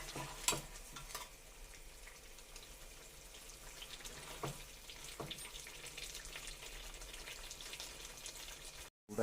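Handi chicken masala frying in a pan gives a faint, steady sizzle with a few soft stirring clicks scattered through it, and no voices.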